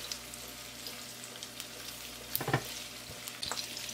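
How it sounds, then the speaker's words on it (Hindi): Seekh kebabs frying in a pan, a soft steady sizzle with a few clattering knocks as the kebabs are turned, fairly quiet and close. "सब तरफ से फ्लिप कर दें, अच्छी तरह से कुक करें।"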